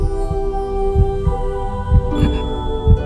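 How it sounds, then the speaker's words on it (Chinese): Heartbeat sound effect in the Fanren Xiuxian Zhuan (A Record of a Mortal's Journey to Immortality) animation, episode 140: dull, deep thumps recurring about once a second over a steady tonal hum and musical drone, with no talking. "另外背景中也能听到阵阵心跳声"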